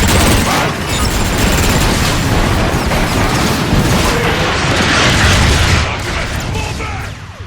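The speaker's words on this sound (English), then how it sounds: "They're shelling the plaza! It's coming from that warp cannon." Heavy shelling from a warp cannon in Transformers: Fall of Cybertron, a dense, continuous barrage of booming explosions and crackling bursts rolling on loudly, with faint voices mixed in.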